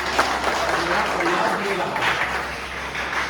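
An audience applauds for two guest school principals at an education policy gathering in a hall, a steady mid-level wash of clapping that continues through the clip with a low hum underneath.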